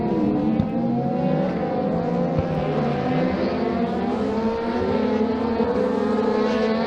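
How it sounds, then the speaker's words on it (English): Clubmans rallycross race cars at Blyton Park race track roar continuously, several engines overlapping with rising and falling revs at a steady, loud level. "you can see where Max is in the white car, number 7, is putting Kevin under a lot of pressure"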